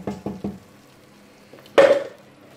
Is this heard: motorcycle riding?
no